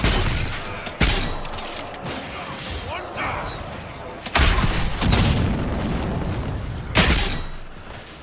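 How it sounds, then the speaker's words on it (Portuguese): Bomb mines thrown to the ground by Varric in Dragon Age: Inquisition, heavy booming blasts landing at roughly second one, four and seven over a constant roar of battle noise, with someone talking. "A habilidade do Varric que é muito boa de jogar bomba no chão"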